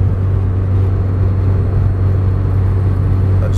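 A car drives with a steady, loud, close low rumble of engine and road noise that holds constant throughout, with no talking.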